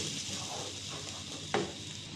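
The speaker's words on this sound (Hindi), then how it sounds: "2 टमाटर का मैंने पेस्ट बना लिया था, मीडियम साइज़ के टमाटर थे और इसको हम अच्छी तरह से फ्राई करें" Paste made from two medium tomatoes frying in a pan, giving a steady soft sizzle throughout with one brief stir or scrape near the end.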